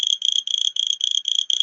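Ferguson's toad calls from the Deccan Plateau in a clear, close, buzzing trill broken into about six even bursts, each repeated in quick rhythm against a silent background.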